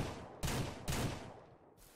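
Two sharp gunshots crack about half a second apart, followed by a fading echo, as a player shoots at livestock in the farming video game Ranch Simulator; the shots sound fairly faint.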